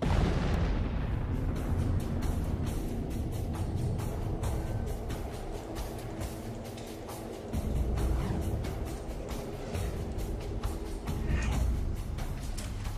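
Explosion sound effect standing for an evaporating mini black hole: a huge booming blast that opens loud, then settles into a long, dense rumbling roar with crackling bursts and a second surge midway, no talk.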